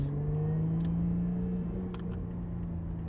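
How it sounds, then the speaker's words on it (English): A sports car engine hums steadily up close with a strong low drone, rising slightly in pitch as it accelerates. "And those engine sounds are so nice."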